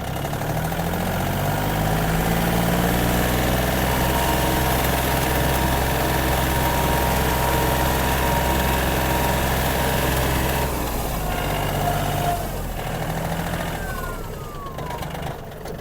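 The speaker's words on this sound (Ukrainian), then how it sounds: "Даємо газу." A Yanmar AF-26 Japanese mini tractor engine revs loudly and steadily up close, holding a high drone before easing off slightly near the end, with no talking.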